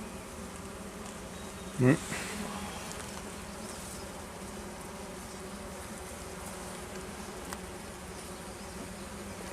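Honeybees hum in a steady, soft drone all around, with one brief louder buzz passing close and a short murmur from a person.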